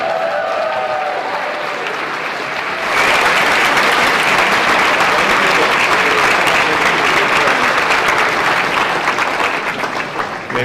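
A tournament crowd at the American Crossword Puzzle Tournament finals gives a round of applause for officials, beginning with quieter sound and then swelling into loud, sustained clapping from a large audience that continues to the end.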